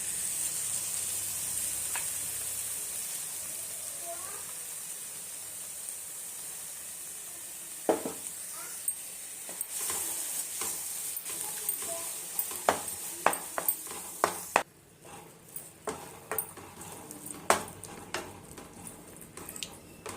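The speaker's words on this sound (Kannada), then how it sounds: "ರುಬ್ಬಿಟ್ಕೊಂಡಿರೋ ಅಂಥ ಪಾಲಕ್ ಪೇಸ್ಟ್ನ ಹಾಕ್ತಾ ಇದ್ದೀನಿ" Wet spinach paste sizzles and hisses in a hot pan, with scraping and stirring clicks growing busier partway through; no voices.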